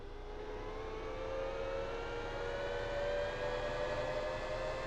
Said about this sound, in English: I will say one thing about this tractor. It picks up speed ungodly quick.